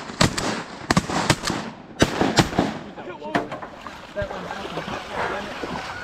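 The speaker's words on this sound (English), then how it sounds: "We're gonna shoot these." Shotgun blasts fired at ducks on a small creek during a hunt ring out in a quick cluster of sharp, loud reports, followed by rustling movement and ambient noise outdoors.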